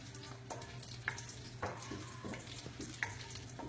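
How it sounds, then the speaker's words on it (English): Sichuan peppercorns frying in hot oil over lower heat, giving a faint, steady sizzle broken by scattered soft pops and crackles, with no voices. "you're flavoring your oil with the Sichuan peppercorn"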